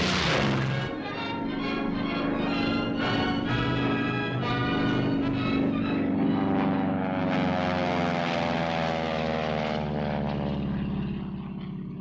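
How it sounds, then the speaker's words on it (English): A Harvard trainer aircraft flies past with a steady, loud propeller engine drone that holds throughout, its pitch sliding downward as it passes, with no voices. "Harvard trainers are used for the preliminary work."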